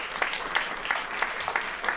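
Steady applause from an audience, continuous clapping with a rhythmic pulse, moderately loud and sustained throughout.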